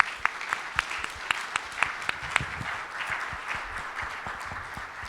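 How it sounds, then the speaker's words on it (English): Applause from a Rotary meeting audience welcoming a visiting Army lieutenant general, steady clapping from many hands in an indoor room, moderately loud and continuous throughout. "Let's give them a round of applause."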